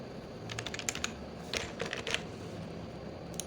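A password being typed on a computer keyboard, faint close-up key clicks in short irregular bursts with brief pauses between clusters over a quiet background.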